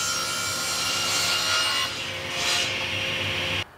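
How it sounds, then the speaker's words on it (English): A saw rips reclaimed 2x6 wood boards down to a 4-inch width, a steady, close rasping cut that swells slightly and then stops abruptly near the end. "I ripped these 2x6s down to a 4-inch width"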